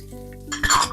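Chopped onion hits a hot wok and bursts into a sudden hiss of sizzling, loud and close, rising abruptly after a quiet moment.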